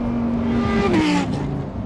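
A Lamborghini Huracan Tecnica V10 engine in Corsa mode revs loudly and close by, its pitch climbing then dropping in a sharp burst before settling back to a steady drone.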